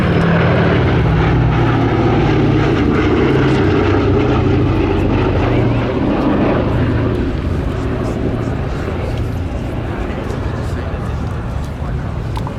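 The propeller engines of a Boeing B-17 Flying Fortress at an air show make a loud, continuous, low throbbing drone that holds steady and fades slightly toward the end, while a voice talks over it.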